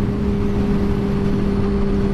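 Steady, close engine drone from a Yamaha FZ6 600 motorcycle riding along a road near Paudalho, Pernambuco, a constant low hum at even revs mixed with rushing wind and road noise.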